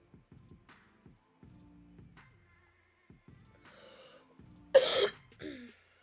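A single harsh cough bursts out after quiet scattered sounds, followed by a short throaty rasp.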